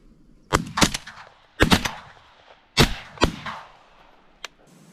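Shotgun blasts at ducks and geese, five loud close shots in quick pairs and singles, each with a short echoing tail, and one faint pop near the end.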